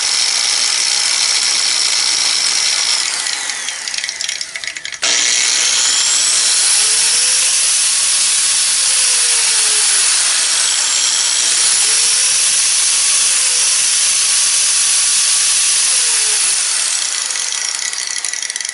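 An ES G1104S variable-speed angle grinder runs at a lowered speed, giving a loud, steady whine with slow rising and falling pitch sweeps. A brief shift in the noise comes early on, and no one talks over it.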